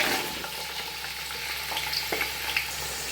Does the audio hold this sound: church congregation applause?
no